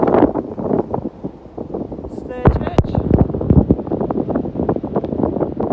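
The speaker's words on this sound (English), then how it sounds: "Whoa, it's windy," Gusty Storm Ciara wind buffets the microphone with a low roar while someone talks over it near a graveyard in Wigginton, Hertfordshire, plus some brief tonal clatter midway.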